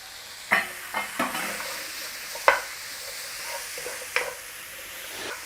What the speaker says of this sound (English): cook out the rawness and bloom the spices. Tomatoes and chili in there. Onion in there.